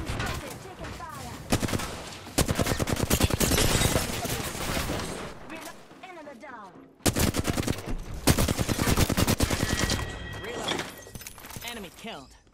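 Apex Legends gunfire fills the scene with sustained automatic bursts and rapid shots from a firefight, dense and loud almost throughout, with a brief drop in the middle and game voice lines mixed in.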